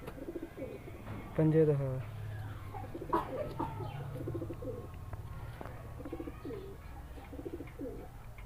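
Teddy pigeons with white eyes coo nearby in a soft, repeated rhythmic pattern, while someone talks over them and a louder call rises briefly.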